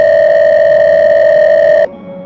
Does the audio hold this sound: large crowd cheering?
no